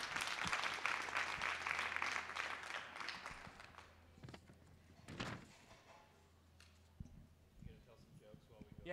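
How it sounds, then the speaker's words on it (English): Audience applause at a thesis competition event in an atrium, a brief burst of clapping at the start that thins out, followed by quieter room noise with thumps and a faint voice. "Let's get an applause for all those who helped make this happen today."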